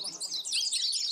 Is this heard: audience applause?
no